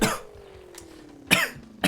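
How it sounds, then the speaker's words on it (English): A person breaks into harsh, sudden coughing after saliva goes down the windpipe, with one burst at the start, another just past midway and a third at the end, separated by a faint lingering tone. "a bit of saliva goes down your windpipe and then you start coughing"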